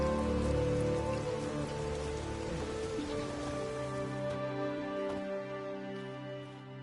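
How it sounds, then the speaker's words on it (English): Heavy rain falls steadily, a dense, loud, unbroken patter that fades slightly toward the end, heard alone with no voices. "There's no point standing here in the rain."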